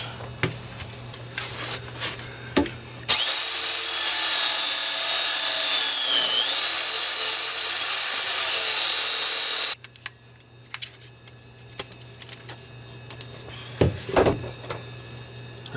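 A power belt sander with a worn belt and little grit left grinds steel on the shock tower of a 1994 Saab 9000, running loud and steady for about seven seconds, with quieter workshop clatter before and after.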